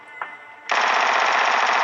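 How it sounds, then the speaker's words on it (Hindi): Automatic gunfire in a shooter video game, a continuous rapid burst of shots that starts abruptly after a single faint pop and stays loud and dense to the end. "चारों तरफ जो इतनी गंदी वाली फायरिंग हो रही है"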